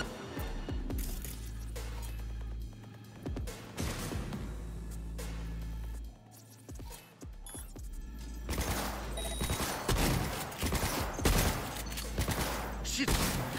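Gunfire in the video game Cyberpunk 2077, rapid bursts of shots and impacts mixed with game sound effects throughout, louder and denser toward the end.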